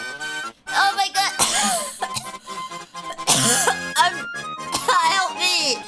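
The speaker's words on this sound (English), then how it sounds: "She's coughing on the smog." Harsh coughing bursts from a woman choking on smog break through excited, overlapping voices, with loud shouting around them.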